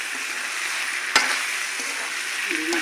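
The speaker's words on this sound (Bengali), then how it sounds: "আলু দিয়ে গিমা শাকের ভাজি হচ্ছে এখানে" Potatoes and gima shak greens fry in hot oil, giving a steady close sizzle with one sharp clink partway through and a faint stir near the end, and no one speaks.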